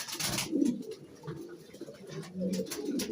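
Pigeons cooing in a loft, low throaty coos rising and falling nearby with a few brief higher sounds mixed in.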